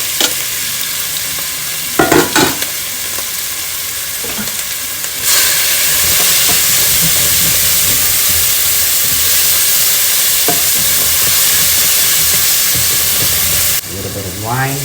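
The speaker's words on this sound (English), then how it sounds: "in that same oil, I'm going to put the garlic, carrot, onion." Garlic, carrot and onion frying in oil in a home kitchen, a loud steady sizzle that jumps up partway through and holds, with a few stirring clatters early and near the end.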